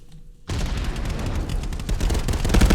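Frag grenades going off in the VR shooter ContractorsVR, a sudden loud onset into a continuous dense roar of blasts and gunfire that keeps building, no talk.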